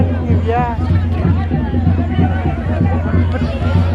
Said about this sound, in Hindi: भीड़ थोड़ी सी ज़्यादा है।